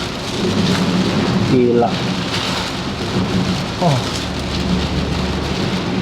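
Heavy rain drums steadily on a Daihatsu Ayla during a road trip from Carita to Jakarta through Pandeglang, Banten, a dense close wash with a low rumble, while a voice speaks briefly over it.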